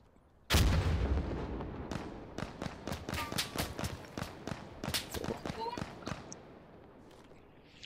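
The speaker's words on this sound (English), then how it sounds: "Let's throw a grenade in there." Grenade blast and gunfire in Insurgency Sandstorm, one sharp loud boom followed by a long series of irregular shots and impacts at moderate distance, with talking over them.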